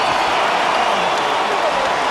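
A boxing arena crowd roars and applauds steadily as Muhammad Ali's daughter enters the ring, a dense, continuous wall of cheering and clapping with no pauses.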